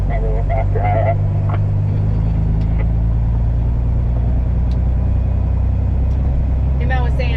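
A dump truck hauling sand maneuvers and turns at a pile on a construction site, its engine rumbling steadily and heavily from inside the cab, with a few faint clicks and rattles over the drone.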